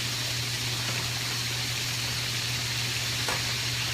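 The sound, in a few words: seafood frying in oil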